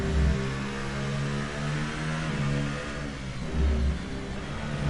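A Formula 1 car in the F1 2018 racing game holds eighth gear under ERS boost, its engine a steady, loud, close growl that swells and dips slightly with no talk over it.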